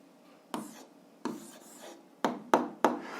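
Pen strokes on paper as a math answer is written out for a 7th-grade algebra exercise, a few short scratchy bursts spaced apart, then quicker ones close together, near and fairly quiet.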